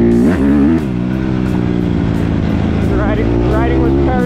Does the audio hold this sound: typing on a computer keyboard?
no